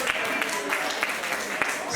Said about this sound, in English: Applause for London.